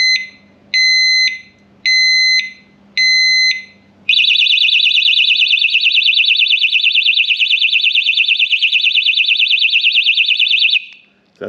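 A Kryptonite Kryptolok alarm lock on a Harley-Davidson Softail gives four loud, evenly spaced electronic beeps, then a shrill, rapid continuous beeping alarm that blares for several seconds before cutting off.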